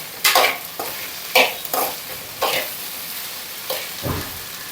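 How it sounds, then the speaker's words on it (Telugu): Okra fry is stirred with salt in a pan, several distinct scraping strokes of a spoon with a soft sizzle beneath, close and clear with no talking. "వేసుకున్న తర్వాత ఇలా మంచిగా కలిపేసుకోవాలి"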